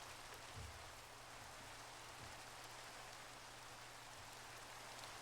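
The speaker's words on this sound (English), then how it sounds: "it's raining again" Rain in the video game Minecraft falls as a soft, steady patter with a continuous hiss, faint and unbroken throughout, with no talking.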